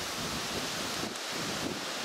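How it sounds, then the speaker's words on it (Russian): Gusty wind blows across open country during a roe deer hunt, a steady, loud broadband roar with microphone buffeting that swells slightly in places and never lets up. "Ветер вон какой дует."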